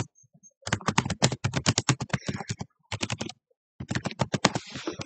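Crisp, close keystrokes on a computer keyboard come in quick bursts while a search term is entered in Canva, with short pauses between runs of typing and no talk.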